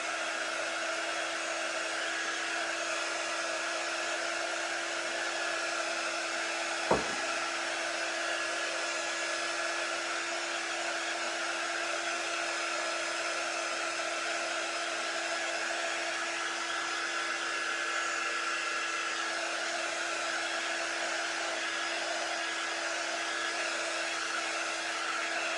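A heat gun blowing hot air over freshly painted chalk-paint decor, a steady, even whirring hum that holds constant throughout, with one faint click early on and no talking.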